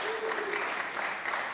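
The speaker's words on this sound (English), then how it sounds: "We can all welcome them by clapping of hands." Legislature members clapping hands in welcome during a provincial house sitting, a steady dense patter of many hands filling the room without pause.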